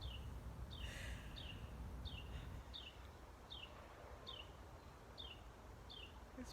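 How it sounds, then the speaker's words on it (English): A bird sings outdoors, repeating a short bright call about every half second over quiet background rustle and low rumble, faint and somewhat distant. "This bird really has a story to tell. Can you hear him?"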